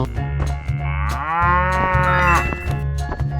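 A cow in a 3D animal slide game lets out a long, loud mooing call that swells and bends in pitch, over a steady game music loop, with no talking.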